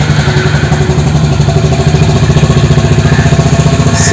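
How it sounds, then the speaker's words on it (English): A Honda Highness CB350 motorcycle engine cranks on its first start of the day and settles into a steady, loud, close idle with an even thumping rhythm. "So let's crank the engine,"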